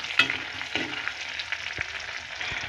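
Onions fry in hot oil with bay leaf and whole cumin, giving a soft continuous sizzle broken by a few light stirring knocks and scrapes, close and moderately quiet, with no voices.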